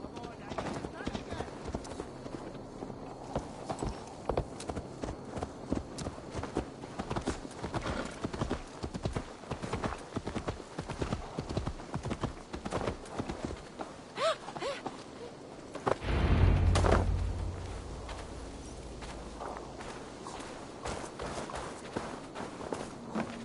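Horse hooves clip-clop in a steady walking rhythm while riding in Assassin's Creed Valhalla, close and continuous, with a brief louder thump near the end. Characters speak over the hoofbeats.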